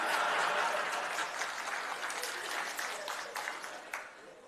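An audience applauds after a speech, a dense, steady patter of many hands that slowly thins and fades across a few seconds.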